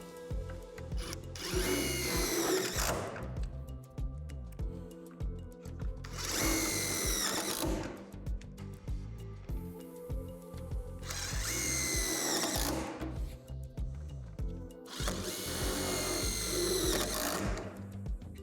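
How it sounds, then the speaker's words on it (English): A power drill drives self-tapping screws through the metal backboard of a Lifetime 54-inch portable basketball system, four loud whirring bursts of a few seconds each separated by short pauses, close and without speech. "Then secure the self-tapping screws that are designed to go through the metal"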